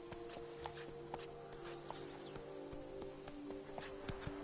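Roach the horse gallops in The Witcher 3: Blood and Wine, with a steady, faint run of rhythmic hoofbeats over a soft, continuous tonal background.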